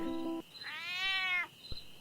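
A single drawn-out cat meow rises and falls in pitch, clear and fairly close, with a brief tonal sound just before it and a short knock after it.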